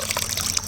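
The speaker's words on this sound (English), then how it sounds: "Look at this, look at this. Yeah, we got water dripping out." Water trickles and drips steadily from the end of a buried drain tile in a trench outside a house, a close, continuous light splashing and gurgling.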